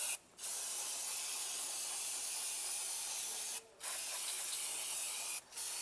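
Cleaner is sprayed onto a car wheel and brakes in three long, loud hissing blasts from an aerosol can, broken by two brief pauses, close up and without talk.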